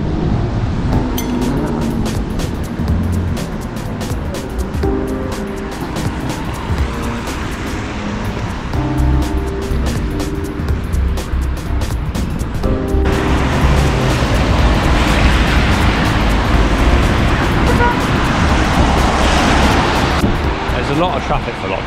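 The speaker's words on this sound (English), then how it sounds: "A lot of traffic for lockdown." Road traffic rumbles and hisses nearby while waiting at traffic lights during lockdown in the Philippines, with vehicles passing steadily and someone talking over the noise.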